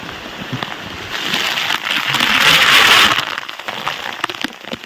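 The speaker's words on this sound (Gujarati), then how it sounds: "હવે વરસાદનું પ્રમાણ વધી ગયું છે ભાઈ" Heavy monsoon rain pours on Girnar mountain in Junagadh. A dense, loud, steady hiss swells in the middle, with scattered crackles and drips throughout.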